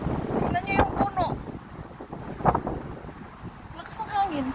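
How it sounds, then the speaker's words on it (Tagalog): Strong, dusty wind buffets the microphone in rumbling gusts, with a few voices speaking faintly in the background. "Ang lakas ng hangin."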